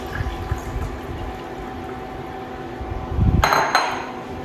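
Clam juice is poured into a hot pan for linguine with white clam sauce. A low sizzle and bubbling build to a sudden louder hiss and splash as the liquid hits, close by with no talk.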